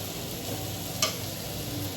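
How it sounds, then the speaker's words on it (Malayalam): Bitter gourd (kaypakka) frying in a pan for Kerala theeyal, a steady soft sizzle with a faint hiss throughout and one brief clink of a utensil midway. "ഇതേ കയ്പയ്ക്ക തീയലിനുള്ള കയ്പയ്ക്കൊക്കെ അവിടെ വറുത്തുകൊണ്ടിരിക്കുന്നുണ്ട്"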